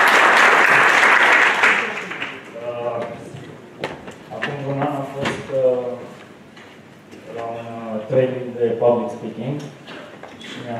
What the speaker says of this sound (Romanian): vă rog un aplauze